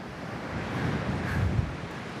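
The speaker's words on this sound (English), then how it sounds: "We've got some lovely waves in the ocean there behind me." Ocean waves rolling and breaking on the shore with steady wind buffeting the microphone, a continuous broad rushing wash without voices.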